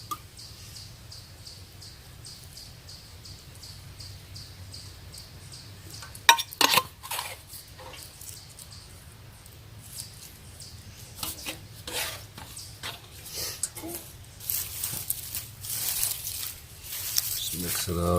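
Food stirred in a pot at a camp on a bushcraft day hike in Wayne National Forest, with scraping, rubbing strokes that grow denser and louder toward the end, birds faint in the background.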